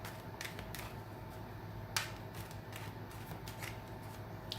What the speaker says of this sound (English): it's shuffling too close and the cards flip